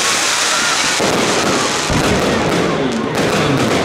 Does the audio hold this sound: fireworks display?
yes